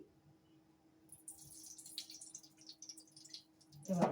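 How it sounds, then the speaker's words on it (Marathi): Cooking oil is poured from a ladle into a hot kadhai, giving a soft, quiet trickling hiss for a few seconds before a louder clink of metal at the end. "ही पळी भरून तीन पळी छानपैकी तेल टाकलेलं आहे"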